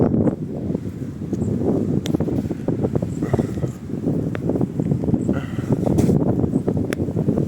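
Strong wind gusting across the microphone at an abandoned urban site, a continuous loud low roar with rustling buffets throughout and no talk.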